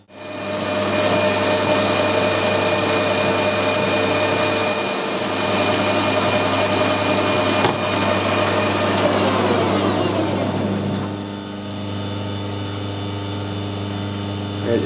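Lathe taking a light 5 thou cut on a steel brake drum mandrel shaft: a loud steady machine whine with a constant motor hum, the cutting note fading out partway as the pass finishes while the machine keeps running.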